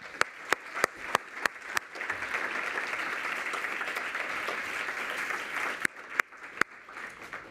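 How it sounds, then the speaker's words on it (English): Applause from an audience at a women's initiative launch summit, a steady sustained wash of many hands clapping, with a few sharp nearby claps at the start and end. "You really deserve a big round of applause"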